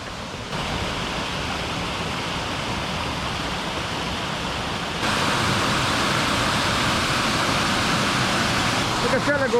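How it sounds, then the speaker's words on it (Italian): Small waterfalls spill between natural rock pools at the Cadini del Brenton near Sospirolo, making a steady, loud, broadband rushing of water close by that grows slightly stronger midway. "sono delle piscinette naturali collegate da queste cascatelle"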